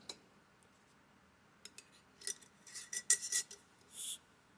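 Metal lid being twisted off a 32-ounce glass mason jar makes faint scattered clicks and light metallic scrapes, with a sharper grinding clink near the end, heard alone in a quiet room.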